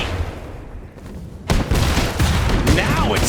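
Incoming artillery shells and rifle fire on an Iron Harvest battlefield, a heavy boom followed by sustained rattling gunfire and blasts, loud and close, with unit voice barks over the fighting.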